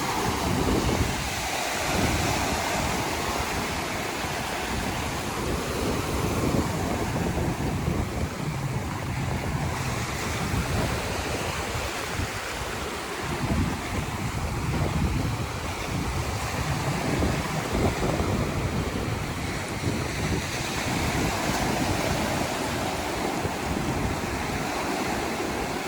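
Ocean surf at Edisto Beach rolls in as a continuous broad wash of breaking waves, loud and close, mixed with wind buffeting the microphone and no voices.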